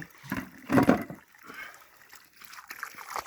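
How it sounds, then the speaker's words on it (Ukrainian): Liquid fertilizer slurry, thick like sour cream, pours out onto soil pre-wetted with water around grapevines; a short trickling splash swells loudly near the start, then fades to faint dribbling, with no talking. "Виливаємо цю метанообразну жижницю таку."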